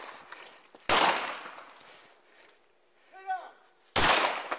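Gunshots during a police shootout with a suspect: two loud, sharp blasts about three seconds apart, each with a ringing decay. A brief voice is heard between them.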